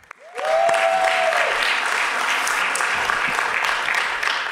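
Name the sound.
audience applause at open mic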